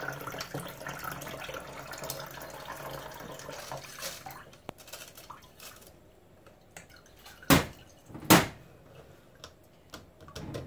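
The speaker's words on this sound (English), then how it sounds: "we're going to collect our rice water in this container just by pouring it through a sieve" Rice water, left from rinsing rice, poured through a sieve into a container: a soft continuous trickle and splash, then two sharp clinks of the sieve or container near the end, with no talking.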